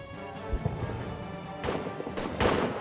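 Gunfire and artillery in the trench-warfare video game All Quiet in the Trenches: a steady low rumble with a couple of sharp cracks early on, then several loud blasts toward the end.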